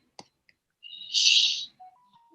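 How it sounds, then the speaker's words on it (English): Faint clicks come first, then a single bird calls with a shrill whistled note that swells and fades, followed by softer thin tones, near and clear over a quiet background. "And I hear a bird's sound."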